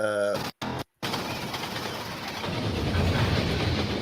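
Gordon the train engine thunders past with a broad, rushing rumble of wheels and motion. It follows a brief voice-like sound and two short dropouts at the start, then builds slightly louder toward the end.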